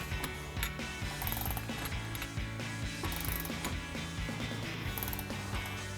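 A hand tool ratchets against the ball joint of a front lower control arm from a 2010-2014 Ford Mustang, giving repeated close mechanical clicks and gear-like clatter in an uneven rhythm for several seconds.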